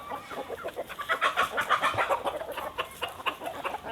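Several native country chickens cluck and chatter nearby in a busy, overlapping flock let out of their coop in the morning, moderately loud with no talking.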